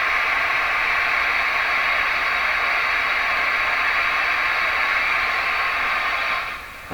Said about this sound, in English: when I'm listening to hiss like this